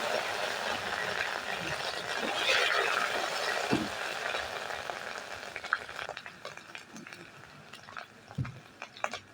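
Ginger garlic paste frying in oil, with bay leaves already in the pan: a broad, hissing sizzle that is strongest early and then thins into softer crackles and a few scattered clinks.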